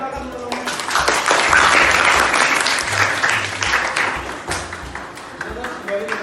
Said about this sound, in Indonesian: Untuk tepuk tangannya, silakan untuk kelompok 4.